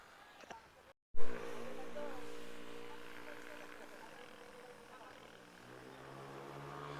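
Steady whirring drone of a small camera drone taking off and hovering for a group shot, loud at first then holding as a continuous buzz throughout.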